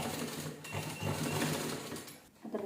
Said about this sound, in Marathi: तो ह्याच्यावर ठेवायचं आणि आपण आता स्टिच करायला घेऊया.